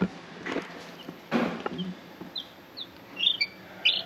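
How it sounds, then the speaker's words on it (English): Baby chicks chirp in short, high peeps scattered through the clip, with a few soft rustling bursts underneath and no talking. "let's just look at how cute these chickens are"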